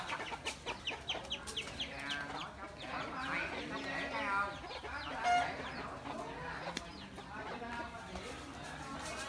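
Chickens cluck and chicks scatter as people chase them in a rural Soc Trang countryside yard, with busy overlapping clucks and scrambling under excited talk throughout.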